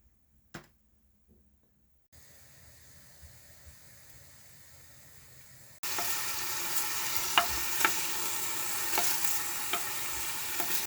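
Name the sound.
onions sautéing in olive oil on the gas stove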